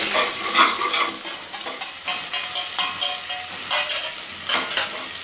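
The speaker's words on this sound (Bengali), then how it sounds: "রসুন আর পেঁয়াজটা দিয়েছি, কাঁচা লঙ্কা দিয়েছি, একটু কষিয়ে নিই, ভালো করে ভেজে নিই" Garlic, onion and green chilli frying hard in a pan for a pointed gourd dish, stirred vigorously: a loud, dense sizzle broken by rapid, repeated scraping strokes of a spoon, close up and with no voices.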